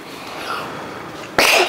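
A single sharp, loud sneeze bursts out close by on a fishing outing at Orange Beach, Alabama, after a quiet stretch of faint outdoor background.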